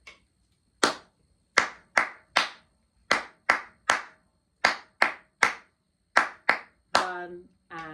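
A lone pair of hands claps out a rhythm from Vivaldi's Winter during a violin lesson, about a dozen crisp, close claps in an uneven pattern, with a brief voice at the end.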